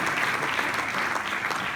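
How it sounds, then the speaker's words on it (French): Audience applause at a business innovation event, a dense steady patter of many hands clapping throughout, fairly loud and alone with no talk over it. "on peut l'applaudir, Vincent Silleux."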